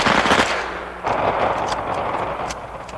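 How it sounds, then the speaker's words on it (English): Machine gun fire in rapid, loud bursts at close range, rattling continuously for about three seconds with no speech over it. "the next battles in the war on drugs will be fought with machine guns"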